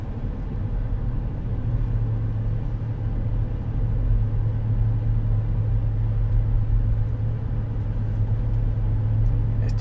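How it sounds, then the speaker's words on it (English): A Chevrolet Tahoe RST's exhaust rumbles low and steady from inside the cabin while driving, a continuous deep drone with no talking. "Got that great exhaust rumble on it."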